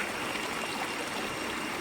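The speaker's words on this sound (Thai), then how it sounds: "ซึ่งเป็นน้ำที่ไหลลงมาจากน้ำตกนะคะ" A small stream runs beside the walking path below Krathing waterfall (Bull Falls) in Chanthaburi, Thailand. Water rushes and trickles in a steady, soft wash with no voices.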